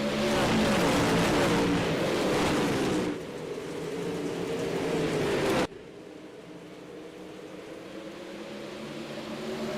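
Engines of dirt late model race cars roar together in the iRacing video game, loud and sustained as the pack runs, dipping briefly before a steady drone continues; no talk over it.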